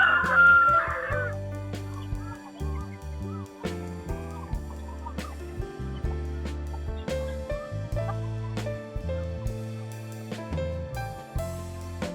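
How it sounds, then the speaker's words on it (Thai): Young chickens on a farm cluck and crow repeatedly in short, uneven bursts, fairly close and distinct against a quiet background, with no talking. "ไก่หนุ่มไก่เริ่มสาวแล้ว เริ่มหนุ่มแล้ว"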